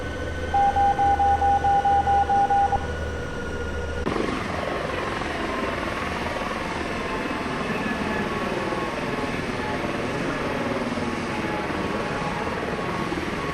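A simulated helicopter in the X-Plane flight game idles steadily on the ground after landing, a continuous broadband turbine whine and rotor hum, preceded briefly by a series of short electronic beeps.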